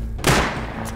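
A single sharp gunshot cracks out in the survival game Rust, with a short decaying tail and a fainter second hit near the end.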